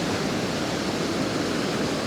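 The waterfall at the Fairy Pools on the Isle of Skye, a steady, dense broadband rush of falling water that stays constant and fairly loud with no voices.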